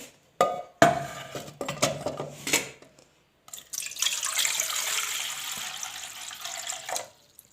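Polished silver pieces are washed in clean water: splashes and trickling water come in bursts with a few light metallic clinks, then a longer stretch of continuous running and sloshing water.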